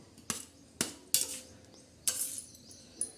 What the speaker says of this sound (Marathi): हे बघा असे हलवून घ्यायचे उलटणीच्या दांडेने